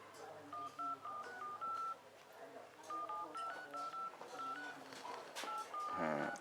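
Touch-tone keypad on a phone being dialled, a run of short beeps in uneven groups, repeated after a pause, with faint voices and room noise underneath and a brief clatter near the end.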